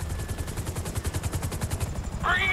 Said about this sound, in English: we're taking fire from the left side of the roof!